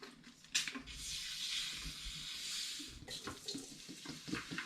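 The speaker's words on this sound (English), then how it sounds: "So I've got 4 litres of IRN-BRU to go into the still." IRN-BRU soda poured into a still, a steady splashing, hissing gush of liquid that runs for a few seconds, then tails off into lighter trickles and small knocks.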